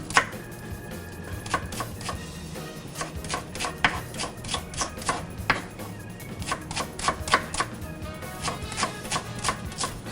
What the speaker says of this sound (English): Now I need to chop the onions, also fine chopped, thinly fine chopped